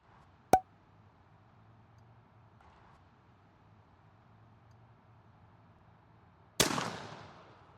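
Mossberg Silver Reserve shotgun firing a 1.5 ounce Apex Greenleaf load of 9 and 10 shot, heard as a sharp distant-sounding crack early, then a louder close blast near the end with a decaying outdoor tail.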